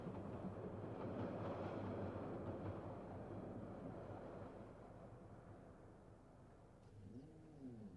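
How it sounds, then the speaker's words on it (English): A diesel multiple unit local passenger train rumbles across West Junction, a steady low engine drone and wheel noise that slowly fades, heard alone from a moderate distance. "A DMU crosses West Junction on a local passenger train."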